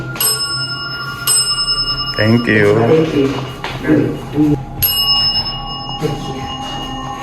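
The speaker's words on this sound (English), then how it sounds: "That bell keeps ringing" A bright, ringing cat-ball bell sounds several times in a reputedly haunted house, each strike leaving a long shimmering decay, while someone speaks briefly between the rings.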